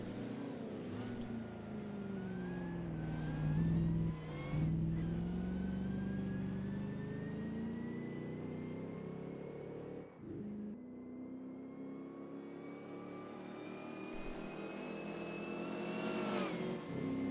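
Racing car engines in a video game recreation of the 1934 Spanish Grand Prix whine and rev, rising and falling in pitch as cars speed past one after another, loud and continuous.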